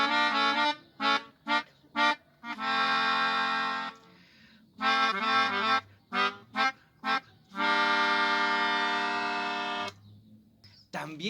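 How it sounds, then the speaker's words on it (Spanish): A melodica plays the wolf's theme in Peter and the Wolf, with reedy, buzzy notes in short staccato groups alternating with long sustained chords, heard close and alone. "Esta se llama melódica y suena así."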